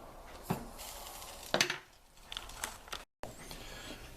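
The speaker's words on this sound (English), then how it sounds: "So I got to constantly stir it, I guess." A spoon stirring food in a non-stick pan, with a few distinct scrapes and clinks against the metal over a faint cooking hiss, fairly close and quiet.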